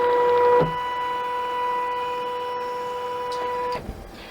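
Embroidery machine stitching recycled denim held in a hoop. A steady, close mechanical whine with tonal hum runs for several seconds, then cuts off near the end.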